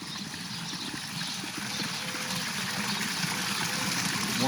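Runoff water flowing steadily through a hotel converted from an 1800s monastery, a continuous rushing trickle with a low engine- or pump-like hum beneath it, close and fairly even throughout.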